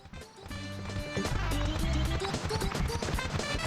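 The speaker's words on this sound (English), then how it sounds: "He sounds like a small horse, that's kind of cute." A small horse-like creature in the video game Super Mario 64 gives quick clip-clop and whinnying sounds over steady, loud game music, running the full length of the clip without any talk.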